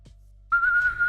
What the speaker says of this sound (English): Out came a shrill tone like whistles anywhere would.